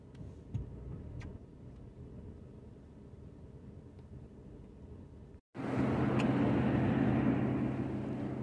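A car driving along a Florida road through pine forest, heard as a faint low interior rumble that cuts out briefly, then returns as a louder, steady road-noise drone.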